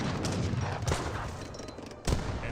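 Musket volleys in an Age of Empires 3 battle involving Janissaries, a dense crackle of overlapping distant shots forming a continuous fusillade with a sharper burst near the end.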